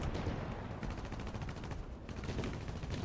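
Dense rattling bursts of gunfire and explosions from a tank battle video game while armor-piercing shells are fired, a continuous loud clatter of rapid shots throughout.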